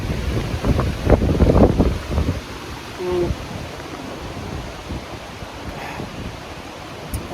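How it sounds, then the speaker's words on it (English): A big gust of wind buffets the microphone outdoors, a loud, broadband rush that swells over the first two seconds and then eases into a steady, lower roar of ongoing wind, with no talking. "Big gust."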